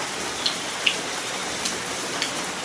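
Steady rain falls on a yard in Kerala, a soft continuous hiss with a few sharper drips landing close by, no voices.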